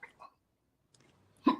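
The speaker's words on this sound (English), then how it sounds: "Got the hiccups." A person hiccups after eating ghost peppers, two short soft hiccups followed by a pause and a louder, sharper one close up.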